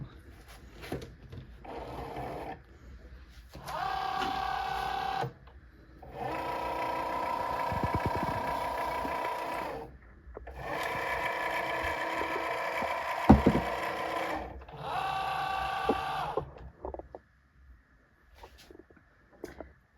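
A Cricut cutting machine scans the printed registration marks on a sheet of bookish TBR cards, giving repeated bursts of mechanical whirring and motor hum separated by short pauses, near and fairly steady, with no talk.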